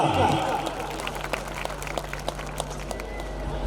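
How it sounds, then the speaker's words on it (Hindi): An audience claps steadily in a hall at a school celebration, welcoming a guest to the stage. The sustained, fairly loud applause rises at the start and then carries on evenly, with a faint electrical hum underneath. "जोरदार तालियों के साथ स्वागत कीजिए"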